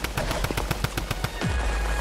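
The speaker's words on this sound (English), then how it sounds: "I have the drum gun." Rapid, loud automatic bursts from a drum gun in Fortnite, a steady stream of about a dozen evenly spaced shots before the firing stops.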